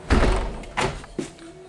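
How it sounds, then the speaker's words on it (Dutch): An indoor door swings shut with a heavy thunk, followed by two softer knocks as it settles against the frame, close and with no talking. "Ja, deur gaat maar dicht."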